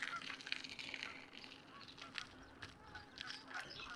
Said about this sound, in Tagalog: Mga itik yan o gansa. Ano? Pato. Ang dami oh.